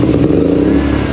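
A PK7500i generator engine, already warm, running steadily and loud, with a continuous low mechanical drone and slight clatter.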